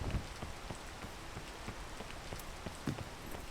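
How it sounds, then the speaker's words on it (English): Rain falls steadily in Hello Kitty Cafe Tycoon, a soft continuous patter with scattered sharper drop taps throughout, moderately faint and heard alone without talk. "And now it's raining, which I can't see."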